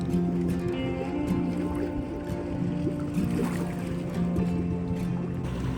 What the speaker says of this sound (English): Push the boat out.